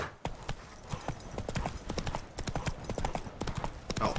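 Roach the horse gallops in The Witcher 3, a steady rapid clip-clop of hooves running throughout with faint snorts.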